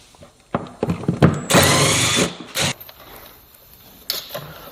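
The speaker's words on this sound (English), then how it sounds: "there's a bunch of these Torx screws, and it's a T30 to take them all off" A power driver spins out T30 Torx screws from a cover during a belt replacement: short whirring bursts with a sustained run in the middle, close and fairly loud, with small clicks between.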